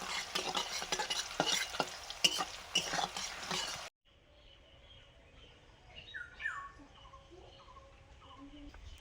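Vegetables fry in a pan after salt is added, a soft steady sizzle with stirring for about four seconds before it cuts abruptly to quieter room sound with faint bird chirps in the background.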